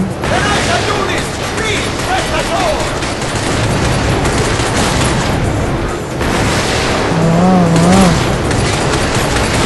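Rapid gunfire crackles almost nonstop in Binary Domain, dense and loud under someone talking over the action.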